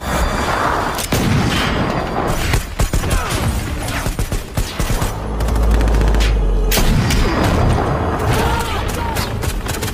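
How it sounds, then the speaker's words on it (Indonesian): A film shootout among armed criminals, with rapid bursts of gunfire and heavy booming shots in dense volleys, loud and close, partly under a narrating voice. "terjadi aksi baku tembak yang cukup menegangkan"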